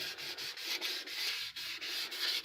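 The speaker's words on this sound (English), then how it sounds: "So what I'll do is a little bit of sanding." Hand sanding on a carved mahogany shell, a close, quiet rasp repeated in steady back-and-forth strokes with brief pauses between each pass.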